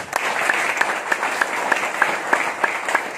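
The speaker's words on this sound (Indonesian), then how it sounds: "Tepuk tangan untuk Cak Nun" Crowd applause for a speaker at a public gathering, many hands clapping together for about three seconds, with a regular pattern of sharp claps standing out over the steady wash.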